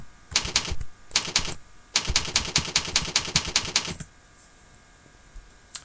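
Quick bursts of clicking keystrokes on a computer keyboard enter an email address into a cell, close and crisp, arriving in three runs separated by short pauses before going quiet.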